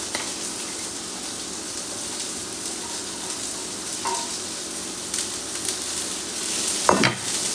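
Garlic frying in a hot pan gives a steady, close sizzle with occasional stirring scrapes, and a sharper clatter near the end.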